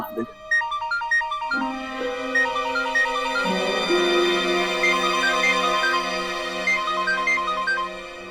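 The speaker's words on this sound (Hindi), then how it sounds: "मुझे पता है तू क्यों फोन कर रही है इशिता।" A melodic electronic phone ringtone plays repeatedly, its tune looping steadily with a voice speaking over part of it.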